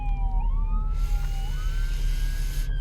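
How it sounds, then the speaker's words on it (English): Ambulance siren wailing as it passes, a rising and falling tone over a heavy low traffic rumble, loud and fairly close, with a burst of broadband road noise midway, no talk. "Here goes an ambulance."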